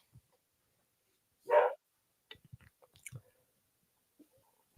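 A pet dog indoors during a live college football watch-along gives a single short bark, followed by a scatter of faint clicks and small knocks in an otherwise quiet room.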